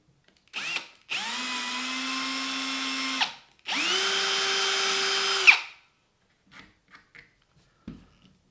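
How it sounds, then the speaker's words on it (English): Close-up power drill boring a pilot hole runs in two sustained bursts with a brief pause between, followed by a few faint clicks and taps. "she'll drill a pilot hole that is pretty close to the middle"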